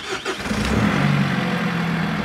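A car engine with a throttle controller set to anti-theft mode revs softly and sluggishly when the throttle is stabbed, a loud, steady low rumble that rises briefly and then holds close by.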